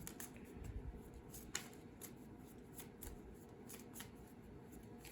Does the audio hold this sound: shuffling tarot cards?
yes